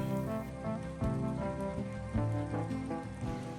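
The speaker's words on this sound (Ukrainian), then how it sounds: "Був вже такий добрячий дощик розпочався" Rain patters on a surface beneath a terrace, a close, even rustle of drops running behind a prominent tonal background.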